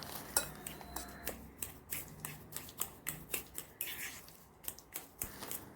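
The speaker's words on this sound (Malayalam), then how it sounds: "പഞ്ചസാരയും ചേർത്ത് നല്ലതുപോലെ ഉടച്ചെടുക്കാം." A spoon mashing soaked flattened rice (aval) with sugar in a bowl, a quiet series of rhythmic scraping taps and clinks against the dish, roughly twice a second, close and soft.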